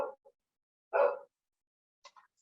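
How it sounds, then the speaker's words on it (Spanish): A dog barks a few times in the distance, short faint yips and one fuller bark, heard over an otherwise quiet online call. "Escucha el perro."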